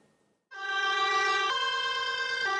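A yellow ambulance siren near the Zaporizhzhia front line starts abruptly after a moment of quiet, wailing steadily and loudly as its pitch alternates between two tones.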